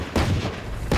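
Gunshots in the Smol Towers video game, two short booming reports about three-quarters of a second apart, close and punchy with no talking.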